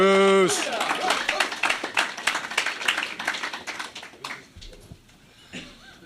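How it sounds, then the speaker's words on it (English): Audience applause at an evening Alcoholics Anonymous speaker meeting in Culver City, dense clapping from a room full of people that swells loudly after a brief opening voice, then thins out and fades toward the end. "I love groups that clap for you before you even open your mouth."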